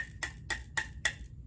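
Four evenly spaced dry taps on a 6-inch tamborim practice pad with a rubber-type head, crisp and close, alone in quiet surroundings.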